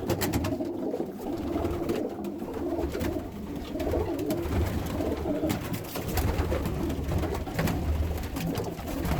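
Soft, continuous cooing from several pigeons, mostly young, fills an enclosed loft, with low throaty murmurs overlapping steadily and occasional wing flutters or shuffles.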